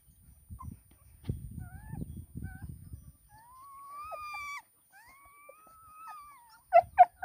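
Newborn black puppy from a litter just born, giving thin rising and falling whimpers and squeaks, close and fairly faint, with soft rustling at the start and a few sharper yelps near the end.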